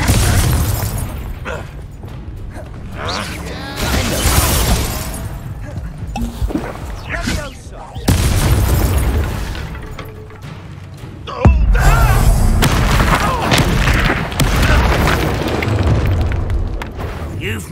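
Booming Confringo spell explosions in Hogwarts Legacy, several heavy blasts bursting out at intervals amid crackling combat effects, with character voices speaking over parts of the fight.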